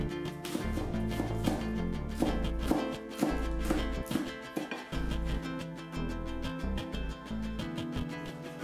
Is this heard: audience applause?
no